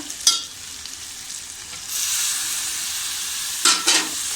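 Tomatoes tipped into a pan of sizzling ginger and garlic for chicken keema, a sharp burst of frying hiss, then a louder steady sizzle with a couple of stirring scrapes.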